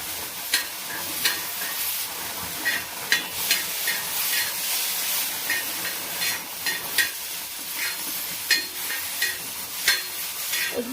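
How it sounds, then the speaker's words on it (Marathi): Green chillies frying in a pan with a continuous hissing sizzle, punctuated by repeated sharp scraping stirs at irregular intervals, close and fairly loud with no voices. "त्याला थोडा वेळ अजून तसंच फ्राय होऊ द्यायचं आहे"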